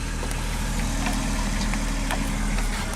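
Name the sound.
engine of a 1973 Dodge car running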